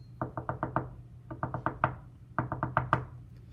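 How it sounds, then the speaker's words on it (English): Someone raps on a wooden door in three quick bursts of four or five knocks each, crisp and close with short pauses between the groups. "one day, a messenger came knocking at the house."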